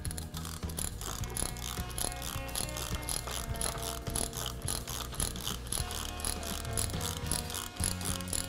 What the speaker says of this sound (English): And then when you want to pull it back up, just reverse the lever.